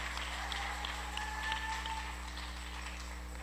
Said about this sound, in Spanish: Dale aplauso de gloria al Señor